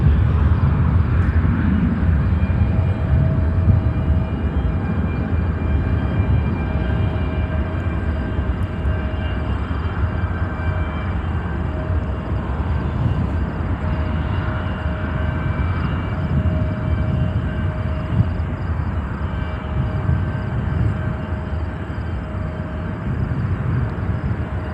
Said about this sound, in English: A C-17, that is awesome.